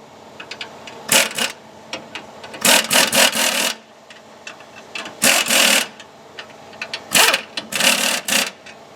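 An impact wrench drives the bolts of helper springs on a 1992 Ford F-150 in short bursts of buzzing rattle, about five separate runs of a second or so each with brief pauses between.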